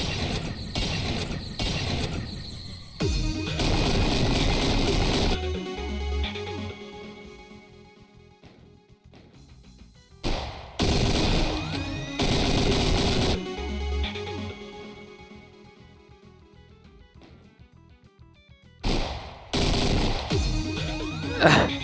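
Upgraded weapon in Doom 2 with the Gun Bonsai mod fires in loud rapid bursts separated by quieter mechanical clicks and pauses, repeating several times.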